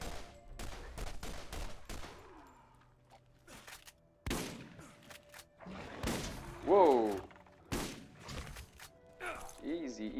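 Gunfire in the video game Borderlands, a series of sharp, separate shots and bursts mixed with mechanical clicks and game effects, close and moderately loud, with brief pauses between volleys.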